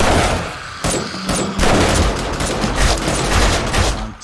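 Gunfire rattles through a 7 Days to Die match, dense overlapping bursts of automatic shots pounding loud and close for the whole stretch with no voices over it.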